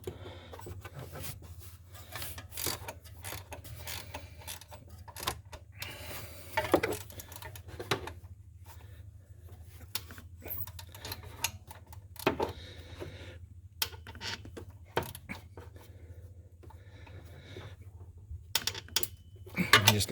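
A socket wrench works on a bolt in the engine bay of a 2006 Ford Explorer V6 during serpentine belt replacement, giving scattered metallic clicks, scrapes and rattles at close range, with intermittent low-level handling noise between them.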